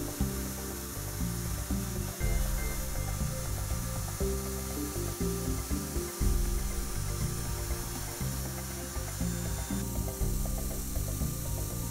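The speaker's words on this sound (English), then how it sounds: "The engraving is done by a 2mm two-fluted carbide end mill with a feed of 1 meter per minute." CNC milling with a 2 mm two-flute carbide end mill engraving acrylic for an arcade machine, fed at 1 metre per minute: a steady, close, rattling, ratcheting cutting chatter that continues throughout without speech.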